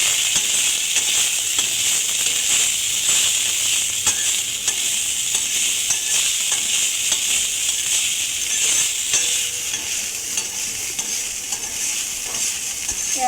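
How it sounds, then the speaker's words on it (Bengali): Soaked flattened rice (chire) tipped into a hot pan and stirred for a Bengali breakfast dish, giving a steady bright sizzle with scraping stir strokes across the whole stretch, close and loud. "এখন আমি এই চিড়েটাকে দিয়ে দেবো। একটু নাড়াচাড়া করে নেব।"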